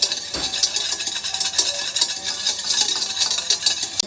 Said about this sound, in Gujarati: ચપટી લીંબુના ફૂલ, 3 ચમચી ખાંડ, થોડું મીઠું, બધાને મિક્સ કરો.